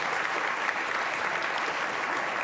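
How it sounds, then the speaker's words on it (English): An audience at Queen's Park gives a round of clapping for John McGrath, even and continuous at moderate loudness, many hands together without pause. "How about a little applause for John McGrath?"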